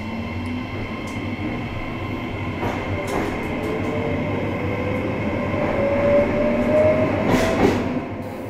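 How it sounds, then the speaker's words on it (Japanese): A JR Hokkaido electric train pulls away from the station quietly, with a low steady rumble and a rising motor whine as it gathers speed, heard from inside the car with faint clicks of the wheels. "さすが電車ということで非常に静かな走り出しでした。"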